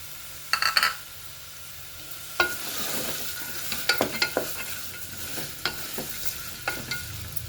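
Broad bean seeds frying and being stirred in a pan for biryani, a steady sizzle broken by repeated sharp scrapes and clinks of the spoon, close and alone with no talk.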